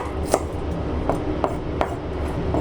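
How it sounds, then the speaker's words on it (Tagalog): Garlic being chopped with a knife on a board, heard as a few sharp, close knocks spaced irregularly, about five in all, over a low background hum. "Balatan natin yung bawang at hihiwain din natin."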